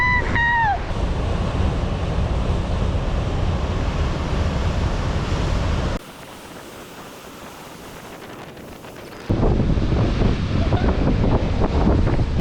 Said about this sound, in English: Yeah, Roaring River. The Roaring River Falls.